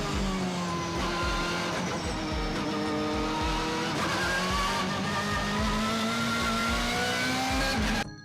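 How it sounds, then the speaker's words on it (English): A BMW E46 M3 GTR race car with a straight-cut dogbox gearbox, whining loudly and steadily as the engine pulls, with rising pitched tones and rapid pulsing throughout, close and continuous until a brief cut at the end. "it was especially notable for one thing: its signature dogbox whine"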